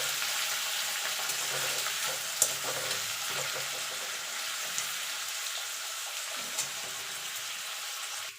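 Carrots for fried rice sizzle steadily in a hot pan, a close, even crackle broken by a few sharp spatula knocks and stirring scrapes, with nobody speaking.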